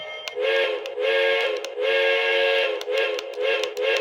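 A Disney Frozen 2 LionChief toy train horn toots in several long, loud electronic blasts with brief gaps, close up and alone.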